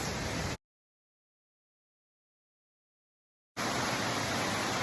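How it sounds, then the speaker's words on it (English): A waterfall in a gorge roars as a steady, loud, broadband rush of falling water, broken by a long stretch of silence in the middle. "you get a nice view of the waterfall"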